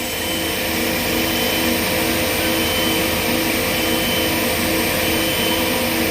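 A double side grinding machine grinds the carbide teeth of a circular saw blade, giving a steady, loud, high-pitched whine with a constant hiss that holds unchanged throughout.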